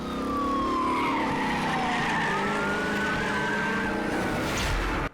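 Racing cars skid their tires in a sustained, loud squeal with falling and rising pitch under steady engine roar, ending abruptly after about five seconds.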